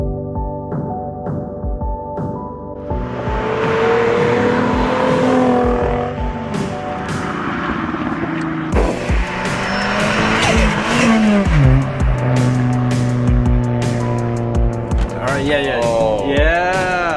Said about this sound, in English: Intake on the Nismo Juke sounds sick.